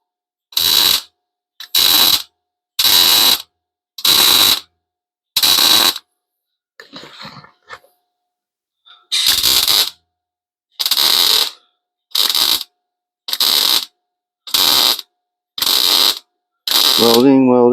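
A welder lays a patch in a regular series of loud buzzing bursts, each about a second long with short pauses between them. A quieter stretch comes partway through.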